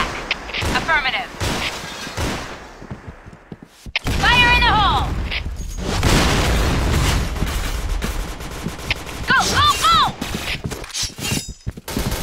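Explosions and bursts of gunfire in the Point Blank shooter during a clan war match on the Luxvile map, a dense run of loud booms and rapid shots with game voice callouts and whistling effects layered over them.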